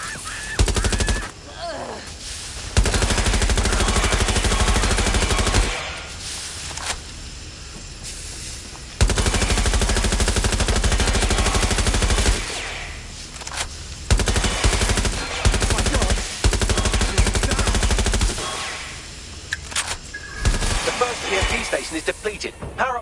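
Heavy gunfire erupts in Watch Dogs: Legion in repeated long, dense automatic bursts, loud and up front, separated by brief lulls with occasional voices in between.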